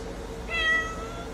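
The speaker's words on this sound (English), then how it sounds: "the cats are meowing" Cats meowing: one short, clear, fairly close meow rising and falling over a faint background hum.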